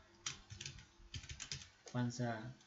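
Keys on a computer keyboard clatter in quick, uneven bursts of clicks close to the mic, and a voice briefly joins near the end.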